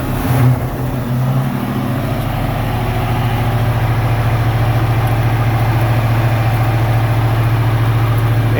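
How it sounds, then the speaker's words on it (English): A 1969 Ford Mustang Mach 1 with an aftermarket aluminum radiator and electric fan idles close by, a steady low rumble that settles after a brief bump at the start and holds an even, loping beat. "Engine sounds good."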